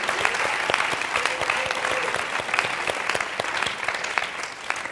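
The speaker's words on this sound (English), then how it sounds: "so I'd like to give them a warm welcome and applause" An audience claps warmly for visiting youth and their counselors, a dense, steady wash of applause with crisp individual claps standing out, moderately distant and unbroken by speech.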